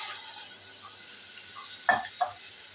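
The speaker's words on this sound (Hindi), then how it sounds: "ये थोड़ा सा हम भून के तो फिर लहसुन अदरक हमने भून लिया है" Garlic ginger paste fries with browned onions for an aloo biryani: a quiet, even sizzle carries through, broken by two short metallic clanks of a spoon against the pot toward the end.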